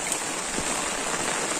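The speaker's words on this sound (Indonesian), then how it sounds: "Wah, hujan." Rain falls steadily in an outdoor spot near a snake burrow in the ground, a soft continuous patter and hiss on surfaces, moderately close, with no talking.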